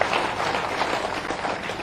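A crowd at a BJP political gathering in India claps steadily, a dense, even patter of applause filling the whole moment without any break.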